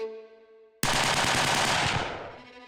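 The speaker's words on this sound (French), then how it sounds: "Les premiers tirs claquent au-dessus de ta tête." Loud burst of gunfire erupts suddenly during a beach landing under fire, dense rapid shots with a heavy sustained roar after a quieter opening, then gradually tapering off.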